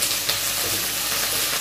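Onion and capsicum fry in a pan with a constant close sizzle and light stirring, with no voices.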